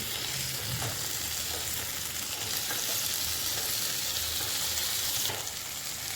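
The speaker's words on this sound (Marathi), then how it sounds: "परत आपल्याला अलुगात फिरवून घ्यायची" Eggplant masala stirred in a hot pan gives a steady, close, continuous sizzle and crackle of frying, with soft scraping from the stirring. No one speaks.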